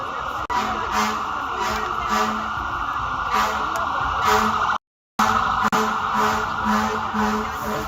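A fire engine siren wails in repeating tones over a steady vehicle drone at an outdoor street setting, loud and nearby, with a brief dropout partway through.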